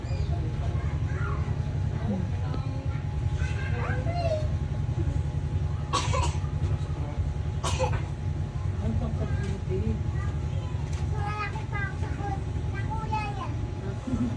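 Two short, sharp coughs break through children's chatter over a steady low background hum.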